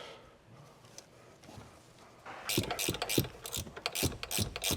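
A hand ratchet tightens the upper control arm nuts on a 2019-or-newer GM 1500 pickup during a Kryptonite upper control arm install. It comes in after a quiet start as a run of close, sharp clicking strokes in steady bursts.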